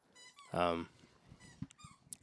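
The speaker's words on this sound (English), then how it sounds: "They're play fighting like dogs." Two dogs play fighting over a toy, giving a loud burst of whining growl followed by short squeaks, yips and snuffles at close range, with people talking lightly underneath.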